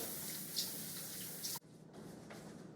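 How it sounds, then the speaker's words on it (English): Soapy hands rubbed together under running tap water give a steady wet rushing wash with faint drips, close and moderately quiet, then a sudden drop to a softer trickle and splashing. "And then stick them under the water and rub them together like so."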